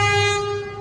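A Vande Bharat Express train arriving at Chingavanam station sounds a loud, sustained horn with a rich harmonic tone, heard alone, with rumbling rail noise beneath that fades slightly toward the end.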